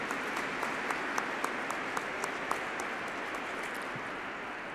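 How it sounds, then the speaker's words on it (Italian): Audience applause fills a cathedral at a literary reading event, a steady wash of clapping with scattered sharper claps, sustained evenly for several seconds with a reverberant, moderately distant character. "Gli facciamo un applauso in contumacia."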